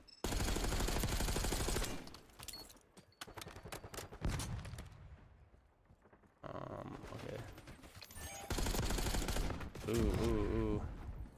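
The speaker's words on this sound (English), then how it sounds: "I can shoot through that fence." Gunfire in Call of Duty Black Ops 6 zombies mode rattles out in dense rapid bursts, loud and close, stopping and restarting several times, with a player talking between volleys.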